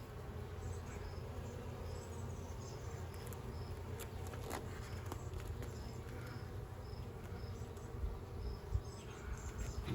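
Honey bees buzz steadily throughout an open hive inspection, a constant low hum close by, with small clicks and knocks from handling the frames.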